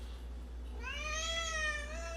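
A house cat meows at a door: one drawn-out, rising and falling meow, fairly soft and close, over a quiet room hum with no talking.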